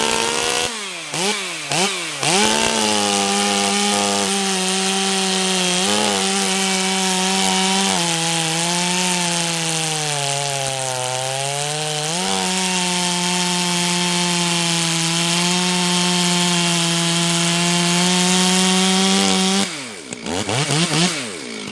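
A ported 70cc chainsaw, Stihl or Husqvarna, saws through wood at a woodpile, its engine screaming steadily at high revs for about seventeen seconds with the pitch sagging under load midway, bracketed by brief revving at the start and end.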